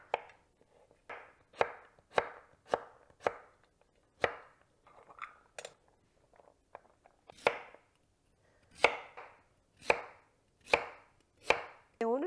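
A knife dices a purple-hued ingredient into small 1.5 cm cubes on a cutting board, making sharp, distinct chops in uneven bursts with short pauses between them, fairly quiet and close with no talking.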